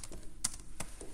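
Keys on a computer keyboard clatter in a few quick, close taps with uneven spacing during a Linux terminal session.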